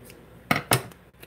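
Scissors make two quick, crisp snips close by as they trim off an edge, followed by a faint click.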